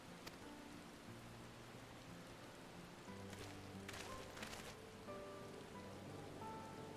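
Soft, steady rain patters throughout, faint and even, with quiet tonal music underneath and a few brief crackling bursts, in the game Final Fantasy XIV: Dawntrail.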